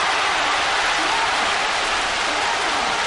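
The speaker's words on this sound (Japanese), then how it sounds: "名古屋ドーム場内はあんばかりの拍手で清原が登場いたしました" Dense, steady applause from a large baseball crowd fills Nagoya Dome, a continuous wash of clapping with no voices standing out.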